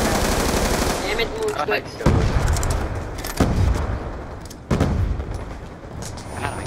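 Heavy gunfire from a video game light machine gun sounds over a dense, continuous battle din. Several sharp, booming bursts stand out. A voice speaks briefly.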